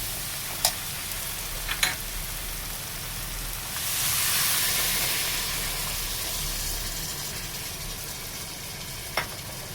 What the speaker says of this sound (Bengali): এবারে আমি এর মধ্যে উষ্ণ গরম জলটা দিয়ে দেব।